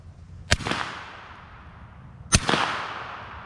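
Two suppressed SilencerCo rifle shots fired with full metal jacket rounds, each a sharp, loud crack followed by a short decaying echo, spaced about two seconds apart outdoors.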